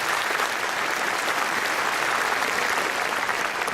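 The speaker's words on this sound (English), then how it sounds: "This is the earned applause of music competition finalists" Sustained applause from an audience honoring music competition finalists at an international event in Sydney, a dense, steady wash of many hands clapping at close range with no talk over it.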